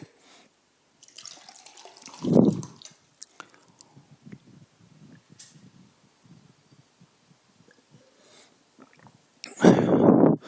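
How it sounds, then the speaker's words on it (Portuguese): Someone taking a small sip of water, with a couple of brief gulping and swallowing sounds plus faint mouth noises in a quiet room, close to the microphone. "Só tomar um golinho d'água aqui."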